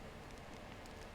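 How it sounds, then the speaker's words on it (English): Rain in the Honkai Star Rail video game, a brief steady hiss of falling drops with faint patter, soft and unbroken. "When will this rain ever stop?"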